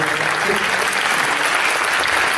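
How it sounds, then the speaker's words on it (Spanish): Loud, continuous applause from an audience closing a panel debate session at an academy event, an unbroken dense wash of many hands throughout. "vamos a dar un aplauso"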